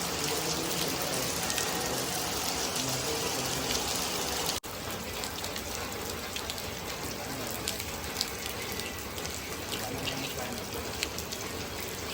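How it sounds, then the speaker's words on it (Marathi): Heavy monsoon rain pours down in a dense, constant roar in a Konkan village, with a brief cut partway through and drops spattering nearby. "पाऊस भरपूर पडतोय इकडे"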